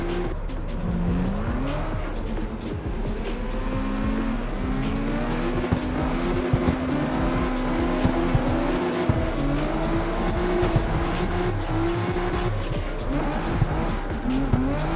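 Nissan R34 drift build lapping in the CarX Street game, engine revving up and down with repeated tire squeal and skids, continuous and loud with no talk.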